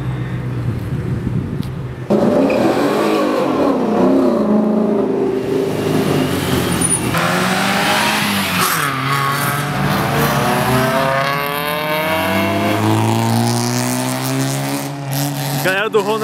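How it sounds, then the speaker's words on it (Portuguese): Loud Ford Mustang V8 engine revving nearby at a car meet, pitch climbing and falling repeatedly as it accelerates, with voices and crowd noise mixed in. "Um motor V8."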